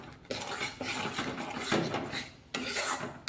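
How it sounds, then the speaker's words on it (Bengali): Spoon scraping and stirring a potato, paneer and pea curry with tomato sauce in a pan, steady rasping strokes with clinks of metal against the pot, close and alone. "এটা মিক্সড করে দিচ্ছি ভালোভাবে।"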